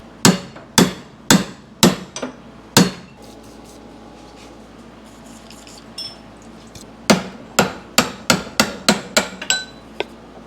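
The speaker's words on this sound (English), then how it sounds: "All you have to do is tap that out with a hammer and a chisel, and it'll just pop right out." A hammer strikes a chisel to tap a front-end part out of a 1971 Cadillac Coupe DeVille during a rebuild: six sharp metallic blows, a quiet stretch, then a faster run of about eight more, close and loud.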